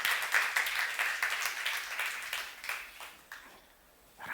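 Applause from a church youth congregation during a sermon, fairly loud clapping that fades out over about three seconds into near silence.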